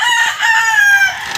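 Several chicks peep and cheep in a busy, overlapping chorus while being fed, close by, with high chirps running continuously.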